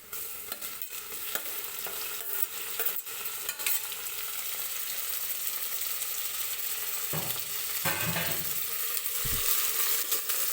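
Chopped tomatoes sautéing in hot oil with fried onions for a pressure-cooker mutton biryani: a steady close sizzle with intermittent scraping stirs and a few sharper clacks of a spoon against the pan, with no talking.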